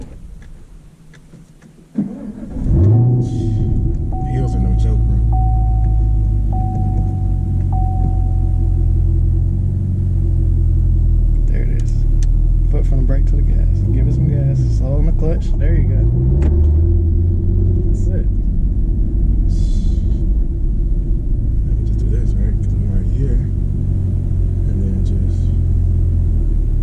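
A Chevrolet SS Camaro with a manual transmission gets some gas: a sudden catch near the start, then a deep, steady, close engine rumble with occasional swells of revving throughout.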